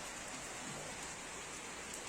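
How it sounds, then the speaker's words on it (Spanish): Rain falls in Los Andes, Chile, as a steady, faint, even hiss of drops with no voices and no distinct thunder. "Y se ha puesto a llover."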